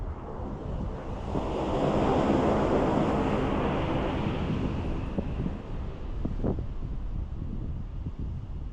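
High wind sweeps over the coast during a drone flight, blending with the broad hiss of surf and ocean waves below. The noise swells in the middle, then settles to a steady wash with a few brief bumps.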